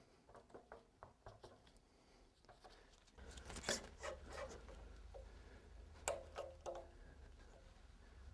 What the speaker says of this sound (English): when you slide the handlebar onto the post, you'll be pulling the cardboard out at the same time